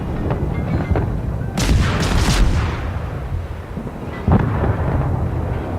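Heavy naval gunfire in the World of Warships game: a couple of deep booming blasts with rumbling tails, then a sharper thud, over a constant low background rumble.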